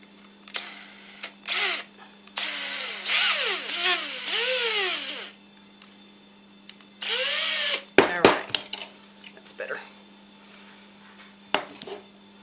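Close-up power tool whirring in several bursts of varying length while making a hop spider, its motor whine rising and falling in pitch, followed by scattered clicks and knocks.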